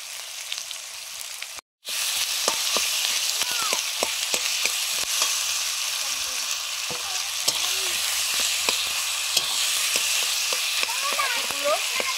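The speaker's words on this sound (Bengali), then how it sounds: "আলুগুলো কড়াইতে ভেঙে দিচ্ছি যেমন খুশি।" Potatoes and spices for aloo curry fry in a wok, a loud, continuous close sizzle with frequent crackles and scraping stirs, briefly cut by a moment of silence near the start.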